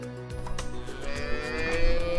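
Longhorn cattle low in a long, drawn-out moo over a busy ranch background with steady rumbling noise, moderately close.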